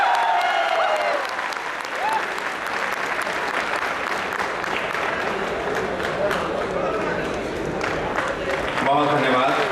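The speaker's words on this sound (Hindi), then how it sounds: "तालियों से स्वागत" Audience applause at the Lal Quila Kavi Sammelan 2017, a poetry gathering: a steady, loud crowd clapping throughout, with an amplified voice speaking over it at times and again at the end.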